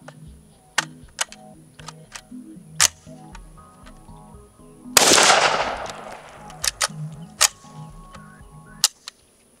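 A malfunctioning AK rifle fires one loud, sharp shot with a burst of noise midway, surrounded by scattered metallic clicks and clacks from handling the action.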